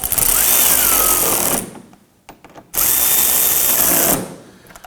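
Power drill driving screws into a Toyota Camry fender liner, with two loud, close whirring bursts of about a second and a half each, separated by a brief gap of faint clicks.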